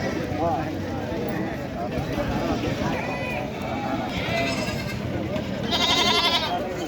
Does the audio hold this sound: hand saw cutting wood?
no